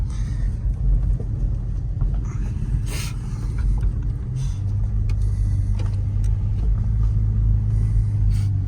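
A car engine rumbles steadily nearby, with a low drone that shifts pitch slightly as it drives, plus faint clicks and knocks over the top.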